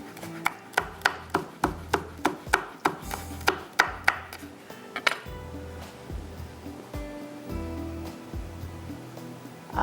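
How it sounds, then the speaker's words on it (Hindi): A knife finely chopping red chili on a cutting board: a rapid, even run of about a dozen sharp, close chops, then a looser, softer patter of cuts. "इसको बारीक काटते हैं।"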